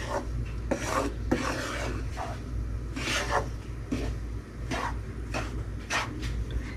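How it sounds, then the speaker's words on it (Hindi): Wheat flour roasts in ghee in a pan over low heat for Punjabi pinni. It is stirred in repeated rasping, scraping strokes of uneven rhythm, close and fairly loud, with no talking. "अब हम इस आटे को सिम सेक पे भूनेंगे।"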